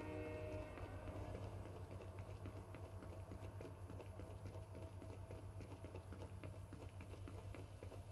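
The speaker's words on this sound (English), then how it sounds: "Let's run towards the train." A train in the Fortnite video game rumbles past with a steady low drone, a metallic clatter and a horn-like tone, constant and moderately loud with no talking.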